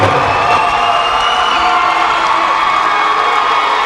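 Loud, dense roar of a crowd cheering and shouting at a girls' high school basketball championship game, with continuous whoops and no breaks.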